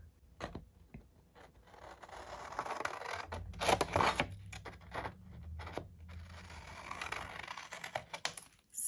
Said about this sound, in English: go down to the bottom of our paper and cut this slit right here